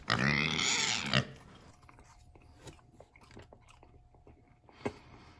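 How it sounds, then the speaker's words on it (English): Someone chews a stick of powdery, stiff gum from a 1990 Topps baseball card pack, crunchy bites close to the mic followed by sporadic soft chewing clicks and smacks. "I'm not afraid to chew this gum. I'm going to pop this one in my mouth"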